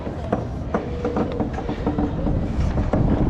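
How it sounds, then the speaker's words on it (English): A roller coaster train at Six Flags Fiesta Texas is dispatched, giving off loud, close clattering and rumbling with rhythmic mechanical clicks over crowd noise. "They're sending a train."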